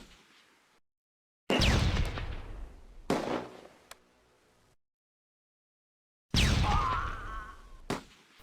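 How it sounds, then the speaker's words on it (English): Grenade explosions in the WWII strategy game Close Combat: A Bridge Too Far, two sharp loud blasts each trailing off in rumble, separated by silence, plus a smaller bang. "A few grenades later, and the threat is destroyed."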